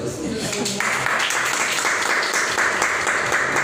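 Applause from an audience at a wellness talk, dense clapping that swells after a moment and holds steady, with a voice speaking underneath at the start.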